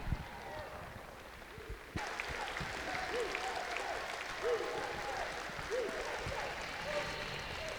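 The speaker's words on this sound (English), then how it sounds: "another big round of applause for Kanakja" Audience applause at a men's team table tennis trial event, a steady sustained clapping from a crowd in a large hall, moderately loud and continuing throughout.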